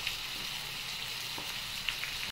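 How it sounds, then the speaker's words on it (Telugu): Curry leaves crackling in hot oil as a tempering for Andhra gongura (sorrel) pickle, a steady close hiss with a few sharp pops. "తిరగమూత చాలా బాగా ఏగుతుందండి"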